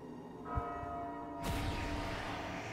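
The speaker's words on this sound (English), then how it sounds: "So that's like the bell that you ring before you go to bed at night." A bell rings in the World of Warcraft Shadowlands game, Venthyr covenant area, with a sustained ringing tone and a second struck onset about a second later over continuous game ambience.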